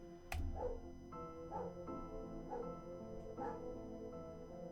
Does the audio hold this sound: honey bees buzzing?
no